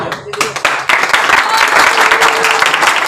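A church congregation claps loudly and steadily during worship, dense hand clapping filling the space, with voices calling out beneath it.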